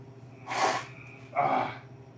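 Two sneezes, about a second apart, each a sharp burst of breath, close and fairly loud.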